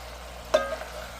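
A spoon mixing browned beef and pork in a pot gives one short scrape with a light clink, over a faint, steady low hum.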